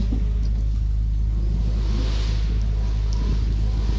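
A Mazda RX-4 at a hillclimb produces a steady, loud low engine rumble as it drives past, with a constant broad roar and no talking.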